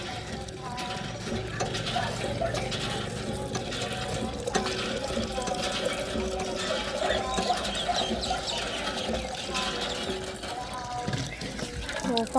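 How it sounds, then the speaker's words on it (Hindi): Water being filled into containers outdoors, a steady faint trickle and splash under ongoing talk, with chickens clucking nearby in the background. "तो अभी जहाँ पे पानी भर रहे हैं हम"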